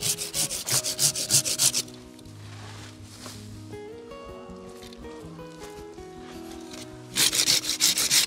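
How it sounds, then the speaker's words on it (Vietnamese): Quick, rhythmic strokes of a new-bladed hand saw rasp through hard bay laurel wood at the start and again at the end, with music playing in between. "Gỗ rất rắn, cưa này là cưa lưỡi mới đấy."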